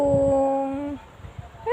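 A dog gives a long, tonal howl that trails off after about a second, followed by quieter whimpering sounds, close up, with a person speaking briefly as the howl ends.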